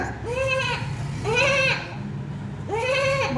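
A voice gives three drawn-out, wavering bleats imitating a goat, evenly spaced and close to the microphone.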